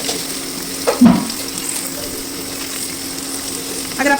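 Chopped onion drops into hot oil for a chicken curry, giving a brief burst of sizzle and clatter, then a steady quieter fry with a second stir near the end.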